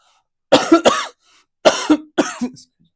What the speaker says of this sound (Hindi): खांसी ज्यादा हो गया।